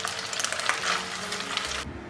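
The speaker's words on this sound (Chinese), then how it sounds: "我们来起锅热油，把酿豆腐呢肉馅的这一面放进来煎一下" Stuffed tofu with a meat filling pan-frying meat side down in hot oil, giving a loud, dense sizzle that cuts off abruptly near the end.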